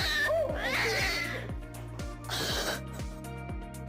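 A feisty cat meows and yowls at a reporter in two loud, strained bursts. A steady low mechanical pulse runs underneath.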